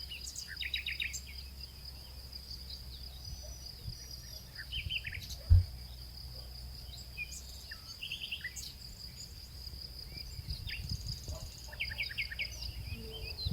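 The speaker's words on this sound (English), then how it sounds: "You can hear the bugs too." Insects and crickets chirp in a field, with repeated short bursts over a steady high trill and faint bird calls, plus a single brief thump midway.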